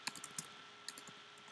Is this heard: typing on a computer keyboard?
yes